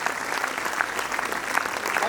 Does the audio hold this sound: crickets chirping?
no